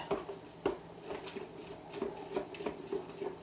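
A spoon stirs spaghetti sauce in a hot pot, producing soft, irregular scrapes and light clinks against the metal that are quiet and close, with no talking.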